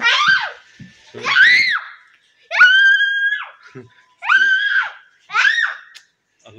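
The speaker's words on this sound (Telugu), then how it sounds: "ఎందుకు అట్లా అరుస్తున్నా?" A young girl just home from school lets out five loud, high-pitched screams, each lasting about a second, separated by brief gaps of quiet.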